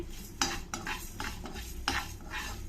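Dried and green chillies frying in a pan for a ridge gourd chutney, stirred with a spoon in several scraping strokes over a steady low sizzle, close and with no talking.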